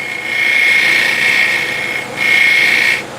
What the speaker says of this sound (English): light scrape like that